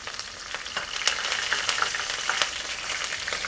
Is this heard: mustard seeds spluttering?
yes